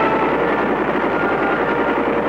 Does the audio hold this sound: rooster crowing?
no